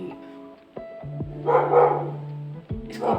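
A dog barks a few times close by, short sharp yaps with brief pauses between them.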